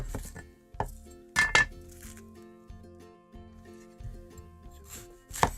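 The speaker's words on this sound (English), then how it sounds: "Chop the top off." A few sharp knife strikes on a cutting board as the top is chopped off an onion, quiet isolated chops with gaps between them against faint background tones.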